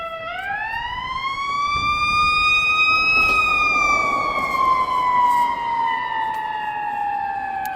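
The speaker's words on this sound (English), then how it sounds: "There's a ambulance coming by here." An ambulance siren wails loudly as it passes by, its pitch rising sharply, then sliding gradually lower, with a vehicle rumbling underneath.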